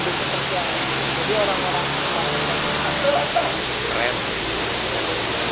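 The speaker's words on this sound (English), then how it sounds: "This is a Cinangrang waterfall." Cinangrang waterfall in Subang, a steady broadband roar of falling water filling the scene close by, with people talking briefly over it.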